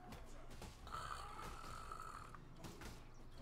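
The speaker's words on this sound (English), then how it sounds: "Snoring." A character snores in the video game Path of Exile, a steady drawn-out rasping snore over a continuous game background, with no talking.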